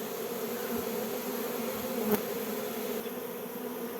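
A swarm of honey bees buzzes in a dense, continuous drone, loud and close, with no talk over it.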